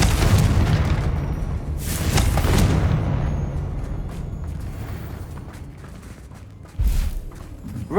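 Confringo blasting spell detonating in Hogwarts Legacy, a loud booming explosion that rolls on with rumbling debris and a second sharp burst near the end, no talk over it.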